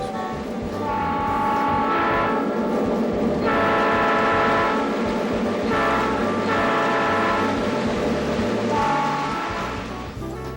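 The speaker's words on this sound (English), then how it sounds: "the thrilling sounds of the railroad, from rousing steam whistles to powerful diesel horns." A Lionel ready-to-run toy train set plays railroad sound effects: repeated loud, chord-like horn and whistle blasts in several bursts over a continuous rumbling, clattering rail bed, with no voices.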